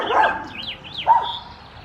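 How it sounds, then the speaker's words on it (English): Dogs barking outdoors in a garden at planting time, a few sharp barks and yips in two quick bursts, moderately loud with no talking. "Oh, those dogs."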